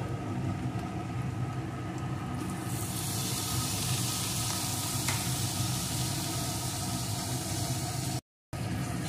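Chopped vegetables with egg stir-fry in a pan, a steady close sizzle with scraping stirring throughout, a brief gap near the end.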